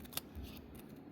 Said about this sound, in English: I'm gonna just use my scissors here to just kind of go around the sides.